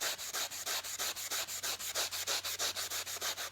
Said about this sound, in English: Now I just have a metal buffing pad, and you just use this to go over the PCB.